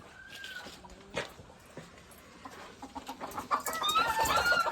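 Free-range village chickens cluck and squawk in a busy farm coop, scattered calls at first, then a denser, louder chorus of overlapping hens near the end.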